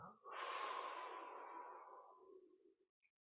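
A long, steady breath pushed out through puckered lips during a seated chair-yoga stretch, one close airy exhale of about two and a half seconds that tapers off into quiet.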